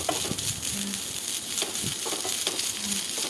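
Masala with curry leaves sizzles steadily in a pan over a low flame while a spoon stirs it, giving a close, even frying crackle with soft scraping strokes.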